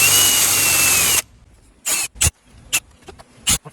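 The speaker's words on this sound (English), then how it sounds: "I'm just going to countersink them a little" A power drill countersinks screws into wood: a loud, steady, high-pitched whir for about a second, then a few short bursts of drilling and light scraping clicks.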